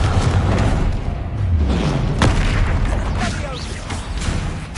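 A Confringo fire spell from the Hogwarts Legacy video game bursting in a loud boom, layered over dense game effects and a continuous rumbling background.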